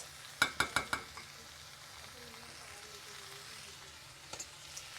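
Food is stirred and fried in a small kadhai: four quick metallic clinks of a spoon against the pan, then a quiet background sizzle with a few softer taps, no talk.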